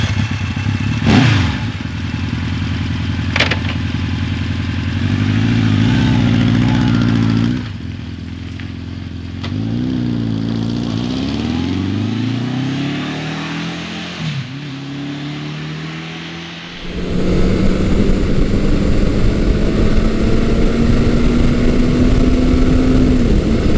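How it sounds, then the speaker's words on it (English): A 1980 Honda CB900 Custom motorcycle is ridden with its engine loud and close, rising in pitch as it accelerates through the gears, then settling into a steady strong drone with wind noise. "I am currently riding Honda's beautiful 1980 CB900 Custom."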